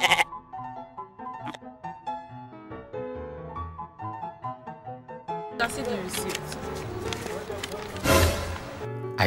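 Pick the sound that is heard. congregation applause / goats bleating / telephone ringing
goats bleating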